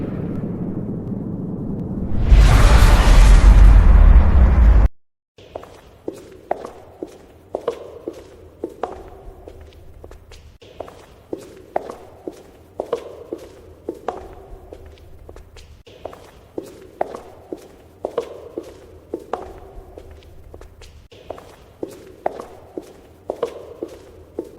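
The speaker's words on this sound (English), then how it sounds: "I hear footsteps." Footsteps in an AI-generated sci-fi movie scene: a loud rumbling burst cuts off abruptly, then measured, evenly paced steps follow one after another, fairly close and distinct, with no talking.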